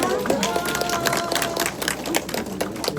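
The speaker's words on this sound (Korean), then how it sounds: "자, 큰 박수 다시 한번 부탁드리겠습니다" Applause at an award ceremony for the third Gamseongsi culture festival in Jeju, a crowd clapping steadily and loudly throughout with sharp overlapping claps.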